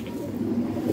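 A pigeon coos softly in a short, low, throaty burst, close by and alone.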